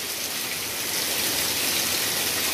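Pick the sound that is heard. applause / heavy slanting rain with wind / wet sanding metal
heavy slanting rain with wind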